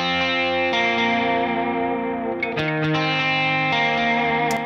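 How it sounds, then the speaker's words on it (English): A guitar played through a Strymon Deco double tracker plugin rings out in sustained chords with a thick, doubled, slightly distorted tone, then a few quick picked strums near the end, with no talking. "So here's the double tracker by itself for the guitar."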